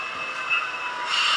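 Model railroad train runs along its track with a soft, continuous whirring and a thin, high squeal that comes and goes. No voices are heard.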